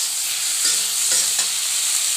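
Pieces of eggplant and small potato chunks sizzle and hiss in a pan while being stirred and mixed, with a steady bright frying crackle and a few scraping stirs against the pan.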